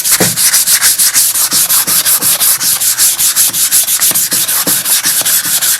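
Sandpaper scrubs a powdery coating off a metal surface in quick, regular back-and-forth strokes, a loud, close, rhythmic rasping with no voices.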